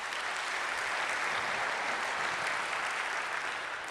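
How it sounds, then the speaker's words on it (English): Steady audience applause at a city council meeting, a dense even wash of clapping heard alone for the full length at moderate distance. "Let's give them a round of applause, and thank you."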